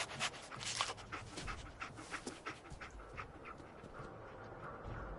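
Dogmeat, the dog in Fallout 4, pants steadily in quick rhythmic breaths, close and fairly soft, with faint game ambience behind.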